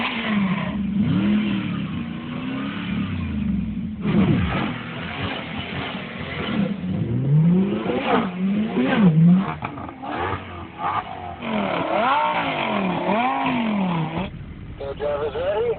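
Mercedes SLR and other supercars in a $1 million drag race, engines revving and rising in pitch across the clip, with voices talking over the engine noise throughout.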